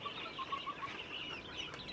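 Breeder quails clucking and chirping in cages, a dense chorus of short rapid calls heard close up, steady with no talking.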